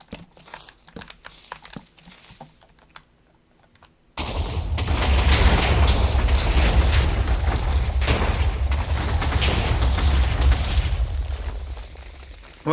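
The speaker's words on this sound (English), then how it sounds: "Well, the explosion didn't go to the other side, which I kind of expected that" TNT exploding in Minecraft, a sudden loud blast that becomes a sustained, rumbling roar of overlapping detonations lasting several seconds before easing off, with sparse quieter sounds before it and no talking.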